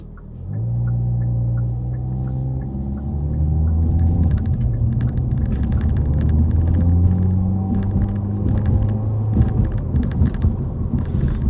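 A Hyundai Elantra N driven at night, heard from the cabin as a loud, steady engine and exhaust drone that rises in pitch through the revs, with a deep rumble underneath and light ticking or crackles later on.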